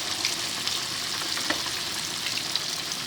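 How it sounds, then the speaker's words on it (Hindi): Chicken pieces for spicy broast fry in hot oil in a large kadai, giving a steady, dense sizzle and crackle with a few sharper pops, close and continuous with no voices. "चिकन का ये पीस है, ये आराम से हम इसमें डालेंगे।"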